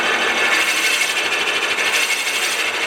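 A drill bit bores into wood spinning on a wood lathe, producing a steady, close, abrasive grinding rasp that carries without pause.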